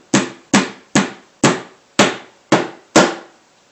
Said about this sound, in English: Might want to have an adult handle the hammer.